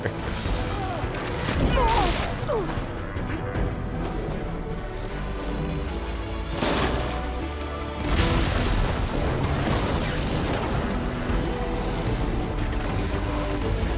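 In Horizon Forbidden West, a machine is shocked and its canister struck, giving heavy booms, crashes and whooshes amid constant combat noise, with two louder impacts standing out.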